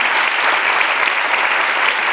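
Audience applause for a dancer at a live electroacoustic music performance, a brief burst of dense, steady clapping from a hall crowd.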